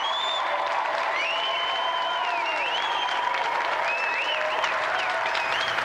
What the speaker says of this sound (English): let's have another round of applause for a brilliant winner, Josie Lawrence